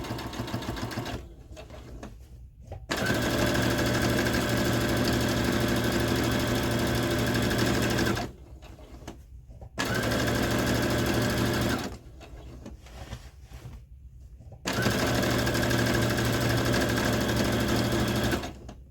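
A sewing machine stitches an apron in three long, loud, steady runs of rapid mechanical whirring, separated by short pauses with light handling noise.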